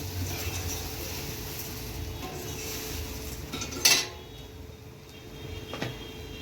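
Soft scraping and shuffling of a utensil stirring patra tempered in groundnut oil in a pot, with a single sharp metallic clink midway; no talking.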